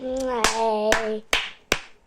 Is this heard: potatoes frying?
no